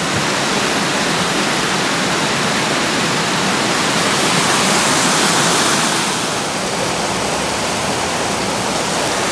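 Lunch Creek in Glacier National Park rushing over limestone, a loud, constant broadband wash of flowing water heard close up with no voices, steady throughout with a slight shift in texture partway.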